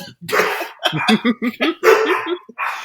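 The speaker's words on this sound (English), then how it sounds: "That's my dog." A dog barks repeatedly in a quick, uneven series of loud, close yips and barks, with brief pauses between bursts.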